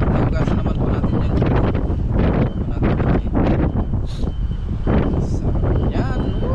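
Gusty outdoor wind buffets the microphone in loud, rough bursts beside a fish-cooking fire, with rustling and rumbling throughout the whole stretch.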